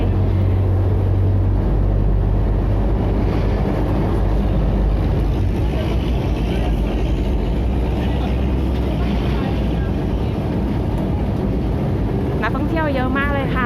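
Ferry boat engine crossing the river from Tha Tien to Wat Arun in Bangkok, a steady loud low rumble and churning water throughout, with a brief burst of talk near the end.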